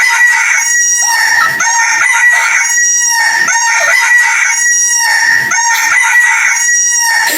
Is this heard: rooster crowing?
yes